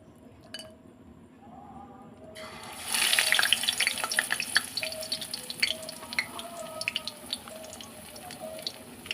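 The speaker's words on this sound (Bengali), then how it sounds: "সাদা তেলটা দিয়ে দিচ্ছি পকোড়াটা ভাজার জন্যে, সজনার পাতার পকোড়া। এখানে আমার তেলটা গরম হয়ে গেছে। এবার আমি একটা একটা করে ভেজে নেবো।" Drumstick leaf pakoras drop into hot white oil one by one, a quiet start giving way to a bubbling, crackling fry with light clinks of a utensil, fairly close and steady.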